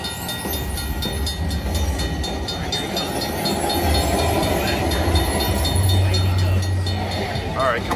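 Train feature sound effect from a Buffalo slot machine game in a casino, a continuous rumbling, clattering rail sound with squealing tones, loud and steady, with casino background noise.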